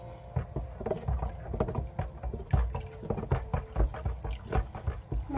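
Lye solution poured slowly into oils for cold process liquid soap making, a soft continuous liquid trickle with small splashes and drips, heard close and fairly quiet, with no talking.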